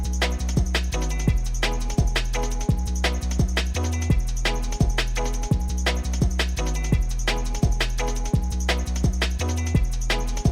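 Dubwise drum and bass bass line in E, with deep sub-bass notes sliding in a repeating do-dum rhythm under a busy breakbeat of punchy kicks and crisp snares, loud and steady throughout.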